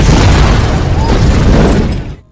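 A car set on fire in a film blows up in one loud, deep, rumbling blast that roars for about two seconds before cutting off.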